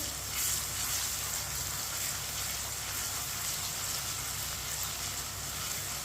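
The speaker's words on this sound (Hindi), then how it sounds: "2 चम्मच कुटा हुआ लहसुन डालेंगे। लहसुन को मिक्स कर लेंगे।" Crushed garlic frying in hot oil with browned onions, giving a steady, close hiss and sizzle that holds evenly throughout with no pauses.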